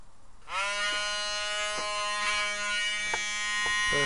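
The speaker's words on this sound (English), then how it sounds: "It's called the Drill Master. It's the generic version of the Dremel." Drill Master rotary tool, a generic Dremel-style unit, whirs up to a high steady electric whine after a brief start, running close and continuous with slight pitch wobbles.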